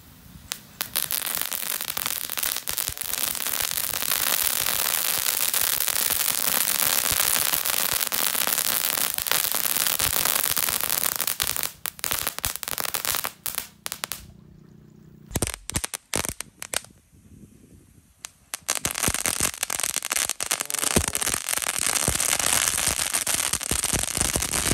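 Five packs of mercon kretek firecrackers crackle continuously in a loud string, breaking into sparse pops and a brief lull before the dense rattling resumes.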